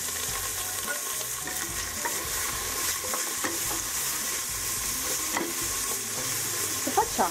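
Chopped parsley and artichokes sauté in a pan for risotto, giving a steady, close sizzle and frying hiss with occasional stirring scrapes throughout, no voices.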